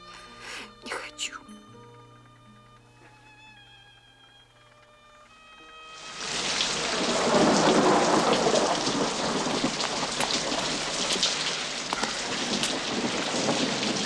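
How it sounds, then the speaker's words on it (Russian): A first spring thunderstorm breaks in, heavy rain and rumbling thunder swelling suddenly to a loud, dense roar after a quiet stretch of soft music and faint sounds. "гроза."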